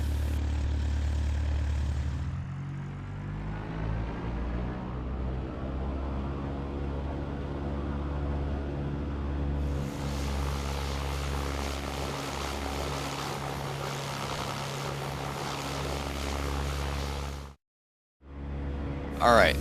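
A Cessna propeller airplane takes off and climbs, its engine droning loudly from inside the cabin, rising in pitch and power partway through, with brief cockpit talk.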